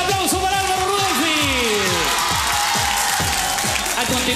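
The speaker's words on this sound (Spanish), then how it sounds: "El aplauso para Álvaro Rudolfi." A studio audience applauds for Álvaro Rudolfi on a TV game night, a dense wash of clapping and cheering that runs under a loud host voice speaking throughout.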